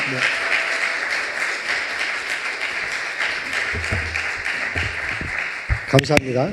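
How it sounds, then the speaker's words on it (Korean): A church congregation applauds in a dense, sustained wash of clapping from a large crowd indoors, steady throughout with a few voices and louder nearby claps rising near the end. "박수로 따뜻하게 모시도록 하겠습니다"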